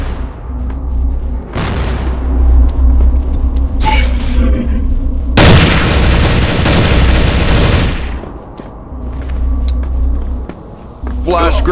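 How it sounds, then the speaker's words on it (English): A grenade explodes in the video game CrossFire during a parkour match: a loud, roaring blast that lasts a few seconds, after shorter bursts of crackling noise, all over a steady low in-game hum. "Grenade."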